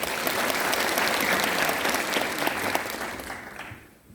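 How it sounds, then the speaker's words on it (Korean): An audience claps steadily to welcome a speaker at a Korean residents' briefing on apartment reconstruction, a dense, sustained wash of applause that fades out toward the end with no talking. "박수로 환영해 주십시오."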